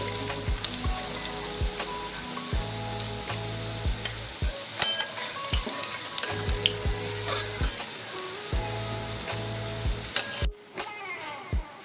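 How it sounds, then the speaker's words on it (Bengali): Papaya pieces frying in hot oil, a steady close sizzle with repeated spatula stirs and scrapes against the pan, plus occasional light clinks, running continuously before easing near the end. "ভালো করে ভেজে নেব পেঁপেগুলি"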